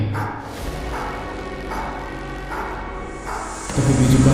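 Several dogs bark and yelp as they rush toward a fallen scarecrow, sounding moderately close over a dense, droning musical backdrop that swells louder near the end.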